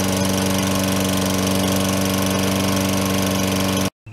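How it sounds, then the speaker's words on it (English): A small lawn mower engine runs steadily at a constant, loud buzzing pitch close by, then cuts off abruptly just before the end. "That lawnmower runs great."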